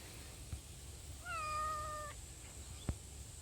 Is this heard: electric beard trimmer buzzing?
no